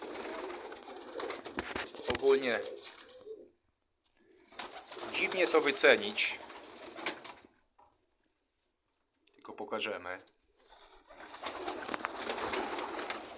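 Pigeons kept by a fancier coo in their loft, soft throaty calls rising and falling in a few bursts with quiet gaps, close by, while someone talks in between and over them.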